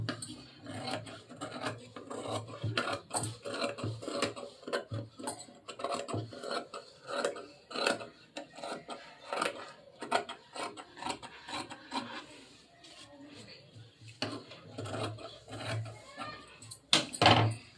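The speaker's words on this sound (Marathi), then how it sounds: "आता हा जो कपडा आहे तो मी कटिंग करून काढते।" Scissors cutting through blouse fabric, a steady run of close, rasping snips and slides across a tabletop, with short pauses between cuts and no talk.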